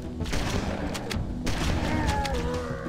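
Shotgun blasts from Halo: Combat Evolved, heavy booming shots in quick succession amid dense game battle noise, loud and close throughout.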